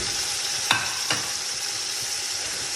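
Meat frying with garlic and ginger in a pan while cooking Kabuli pulao, a steady close sizzle with two brief sharp clicks of a spoon early on and no voices.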